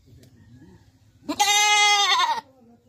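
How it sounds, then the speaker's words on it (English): A single loud, nasal goat bleat lasting about a second, close by, following quieter background murmur. "goat"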